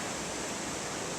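Floodwater from the remains of Hurricane Irene rushing down Phillips Brook Road in the Hudson Valley, a steady, loud, broadband roar of moving water filling the whole moment with no pauses.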